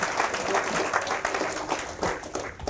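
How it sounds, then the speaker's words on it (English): Audience applause at a talk, a crowd clapping steadily throughout at moderate volume, with scattered individual claps standing out in the dense patter. "Now you can clap."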